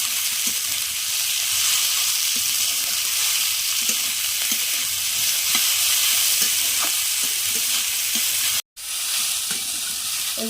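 Chopped capsicum and carrot sizzle and fry in a pan, a steady hiss with occasional stirring scrapes and a brief break near the end, without speech.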